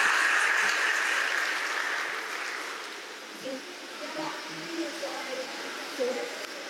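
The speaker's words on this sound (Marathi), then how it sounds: "त्यांच्यासाठी टाळ्या वाजवल्या पाहिजे" An audience at a Marathi lecture gives a round of applause, dense clapping that is loudest at first, then thins out and fades while a voice begins speaking.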